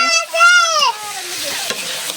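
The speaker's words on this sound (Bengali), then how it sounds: "আমি একটু নাড়া দিয়ে দিচ্ছি" Potatoes and chicken frying in a pan and being stirred during home cooking of chicken kosha, with a steady close sizzle and scraping of the spoon, and a voice briefly audible over the start.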